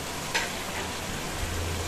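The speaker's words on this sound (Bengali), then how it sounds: "এবার আমি এখানে এই ভাজা মাথাটা তেলটা দিয়ে দিলাম" A fried hilsa fish head sizzles in hot oil tempered with coriander seeds and dried red chili, giving a steady close hiss with a brief crackle near the start and no talking.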